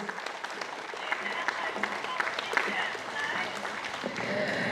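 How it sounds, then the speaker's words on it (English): Applause from an outdoor protest crowd of locals rallying against wind farms in Bunbury, Western Australia, a steady dense clatter of many hands lasting several seconds, with faint voices mixed in. "another round of applause"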